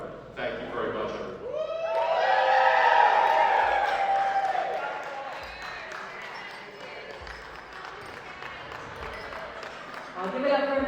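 Wedding guests clap and cheer after a speech, a swell of applause and whoops rising, then easing to scattered clapping before picking up again.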